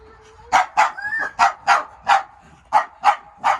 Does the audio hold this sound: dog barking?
yes